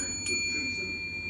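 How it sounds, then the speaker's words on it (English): A single bright ding of a doorbell rings once, short and clear, then lingers faintly in a quiet room. "Let's check the doorbell."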